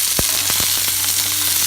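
Yellow pumpkin and onion sauté in a pan for a Tamil stir-fry. A loud, steady sizzle runs throughout, broken by a few sharp spoon knocks and stirs.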